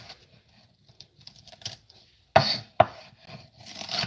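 A knife strikes a cutting board during julienne cutting of vegetables, with two sharp, loud chops standing out above scattered light taps and rustles.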